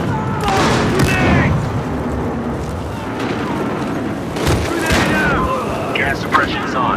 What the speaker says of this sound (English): Gonna hit him with the incendiary.